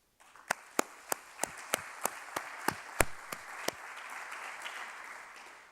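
Applause from a workshop audience in a meeting room: a dozen loud, evenly spaced single claps at first, then thinning into softer, scattered clapping that fades out.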